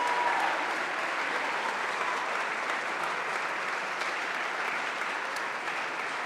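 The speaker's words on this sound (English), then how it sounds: "You may now give them a very big round of applause." An audience at a 2021 matric valedictory ceremony applauds graduating students with an even, continuous wash of clapping that holds steady at moderate volume throughout, with no voices standing out above it.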